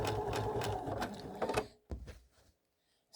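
A sewing machine stitches quilt squares used as leaders and enders. Its busy mechanical chatter runs steadily for about a second and a half, then fades through a few slower stitches and stops.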